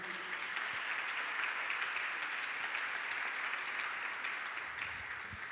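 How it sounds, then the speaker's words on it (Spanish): A church congregation applauds at an evening service, a steady wash of clapping held at an even level, heard from some distance and fairly faint. "Denle un fuerte aplauso al Señor."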